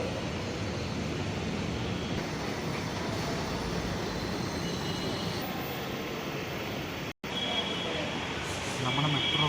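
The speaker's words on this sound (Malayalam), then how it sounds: "നമ്മുടെ മെട്രോ വരെ സമയമായി" A Kochi Metro train rumbles with steady broadband rolling noise and ventilation hum heard from inside the carriage, broken by one brief dropout, with faint chimes near the end.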